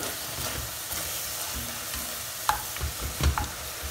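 Ground meat frying in a pan for chili con carne, a soft steady sizzle with a few sharper scrapes and clinks of a spoon stirring it, close by and without talk.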